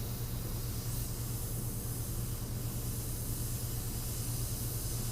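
Aerosol spray paint hisses in a steady, continuous stream onto a 3D skull, a slightly chunky, uneven spray, with a low hum underneath and no talking.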